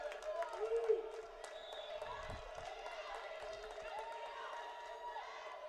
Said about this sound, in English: And this crowd is fired up.